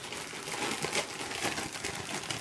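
A sealed plastic bag holding a machine-gun piece from the board game World at War: Eisenbach Gap crinkles and rustles close up in a continuous, dense stream of crackling for a couple of seconds, with no voices.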